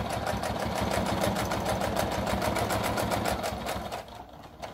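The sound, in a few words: sewing machine backstitching a brush holder pocket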